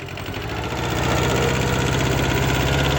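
A close, heavy diesel engine of a Kubota B5001 tractor rumbles and rises in pitch as it revs, a steady loud throbbing that builds over a few seconds.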